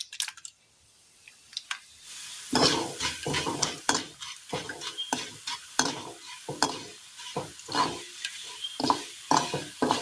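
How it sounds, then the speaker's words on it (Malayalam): Cut vermicelli frying in hot oil in a pan, a steady sizzle broken by repeated clinks and scrapes of a spoon stirring against the metal, close and fairly loud after a quiet start. "എണ്ണയൊന്ന് ചൂടായി വരുന്ന നേരം നമുക്ക് ഇതിനകത്തേക്ക് സേമിയ കട്ട് ചെയ്തത് ഇട്ടിട്ട് ഒന്ന് വറുത്തെടുക്കാം"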